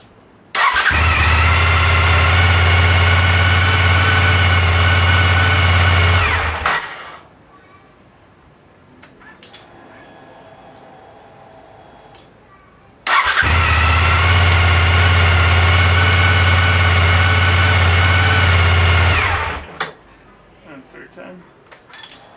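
Suzuki SV1000 motorcycle V-twin fired up and idling twice: a loud, steady engine drone runs for about seven seconds, cuts out for a quiet stretch, then restarts and idles again before shutting off.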